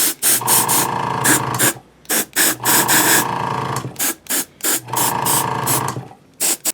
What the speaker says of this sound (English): I'm going to spray the ceiling and those sidewalls.